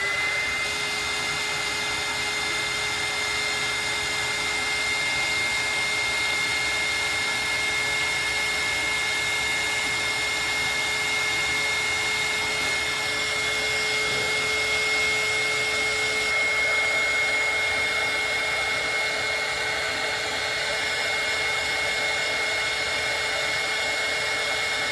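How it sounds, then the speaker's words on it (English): A heat gun blows steadily on a doll's face, a constant close airy roar with a faint tonal whine, running unbroken throughout without talk. "I'm gonna hit her face a little bit with this heat gun because she's too shiny to me"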